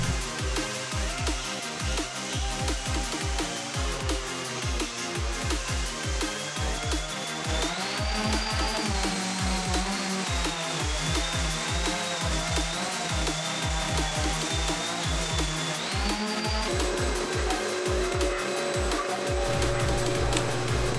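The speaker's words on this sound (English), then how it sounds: "So we've got to go back and grind them down flat." A power grinder works down high spots of expanded crack filler on a concrete garage floor during epoxy prep, a loud sustained whining drone with shifting pitch and rapid rhythmic pulsing throughout, no talk.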